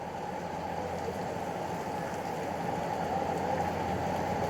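Monsoon rain falls steadily at Matheran hill station near the toy train line. It makes a constant, even hiss with no breaks, and no voices are heard.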